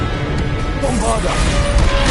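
Bombarda blasting spell impacts in Hogwarts Legacy, a dense, loud crashing burst with rumbling low end and scattered debris-like cracks running throughout, with a voice calling out spells over it.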